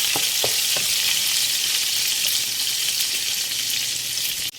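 Hot oil spatters and crackles steadily as vegetables fry for pakbet, a dense close sizzle with a few sharp pops early on and a clatter right at the end.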